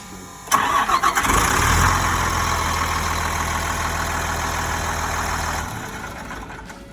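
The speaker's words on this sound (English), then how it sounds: "right there, you can hear your electric fuel pump trying to prime the system" An electric fuel pump on a bus conversion primes the fuel system with a steady, continuous hum and whir after a sharp onset, holding level for several seconds before dropping away near the end.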